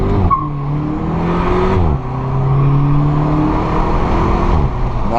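A VW Polo GTI 6C engine revs hard under acceleration, loud and close, with rising engine pitch through two gear shifts and no talking.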